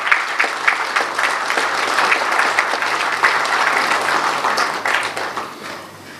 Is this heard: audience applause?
yes